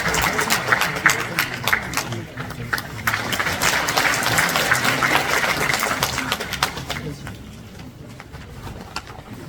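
Hands clap across a large audience as a speaker is welcomed to the stage at a formal ceremony, with dense, loud applause that gradually fades toward the end, with faint crowd murmur underneath.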